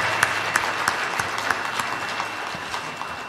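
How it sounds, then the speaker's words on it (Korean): Congregation applauding in a church during a Christmas thanksgiving service, a steady dense clapping wash at moderate level with a few sharper claps standing out. "다시 한번 하나님께 영광의 박수 드립니다"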